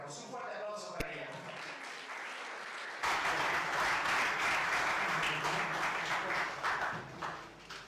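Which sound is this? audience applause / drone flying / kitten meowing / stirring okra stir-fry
audience applause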